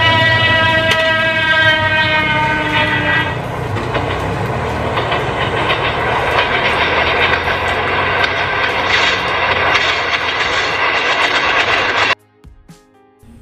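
A train horn blares at the start, then a loud passing ED101 rheostatic electric commuter train on the Jabodetabek line rumbles and clatters steadily before the sound cuts off abruptly.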